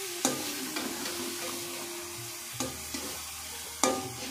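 Grated carrots, cabbage and boiled potatoes being stirred together in a hot pan, soft sizzling with occasional scraping and tapping of the spoon, quiet and close.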